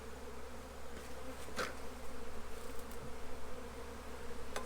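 Honeybees hum in a steady, continuous drone during a spring inspection of a backyard beehive, close and swelling slightly in volume, with faint handling knocks and no talk.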